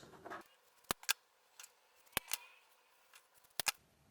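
Scissors snip through pieces of fabric for a tulip table centerpiece, making a few sharp, isolated clicks and cuts spaced apart in a quiet room, with no talking.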